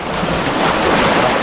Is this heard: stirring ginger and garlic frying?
no